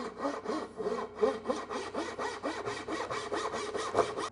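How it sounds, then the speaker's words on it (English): A hand saw cuts pins for a wooden cabinet joint, with quick, rhythmic rasping back-and-forth strokes, several per second, close and steady throughout. "I'll cut along this line as well as cutting along these lines to form the pins"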